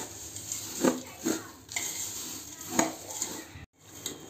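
Chivda snack being stirred with salt and powdered sugar, giving a few clear scraping, clattering strokes of a spoon against the dish spread over a few seconds, fairly close, with no talking.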